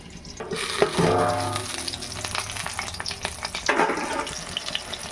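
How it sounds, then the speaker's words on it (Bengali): Topse fish frying in oil in a covered pan for a crispy fry, giving a steady, close sizzle and crackle throughout, with brief watery bursts near the start. "আমি একটু ঢাকা দিয়ে দিয়ে ভাজবো, যাতে মাছটা ভেতর থেকে ভালোভাবে সেদ্ধ হয়ে যায়।"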